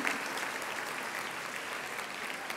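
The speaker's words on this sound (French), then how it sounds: "qu'on puisse vous voir et on puisse vous applaudir comme il se doit" Applause rises from a gathered audience honouring someone for a role held this year, a steady wash of clapping heard somewhat distant and soft throughout.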